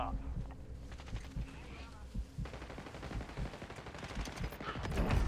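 Gunfire in Call of Duty Warzone, rapid automatic bursts and sharp shots building into heavier sustained fire toward the end, with players talking over it.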